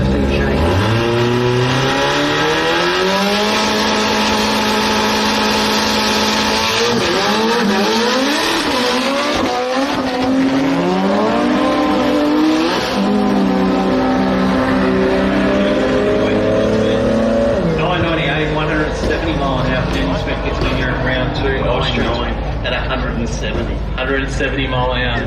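Drag racing cars at a Brisbane drag strip launching hard off the start line, engines screaming and revving through rising, shifting tones with tyre spin, loud and continuous under commentary.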